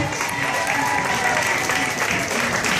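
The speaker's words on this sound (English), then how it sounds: "How about another round of applause for Adam?" An audience at a science show gives a steady round of applause, a thick wash of clapping with a few cheers that holds at even loudness for about three seconds.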